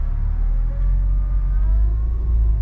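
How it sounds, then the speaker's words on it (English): A Nissan Versa with a failing CVT transmission holds a revving engine under a heavy, constant low rumble, faint whining tones slowly climbing in pitch, with a slight dip and waver partway through, close and loud. "It gets to about 1800 RPMs and then shudders really, really bad and falls out of gear."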